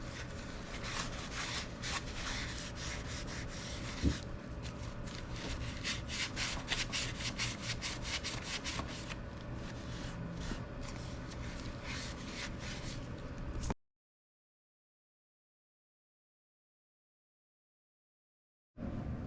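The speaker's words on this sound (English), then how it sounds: "you also want to clean the pivot ball right here" A rag rubs steadily over a dirty clutch fork pivot ball during a K20 transmission install, a close, continuous scrubbing for about fourteen seconds that then stops dead into silence.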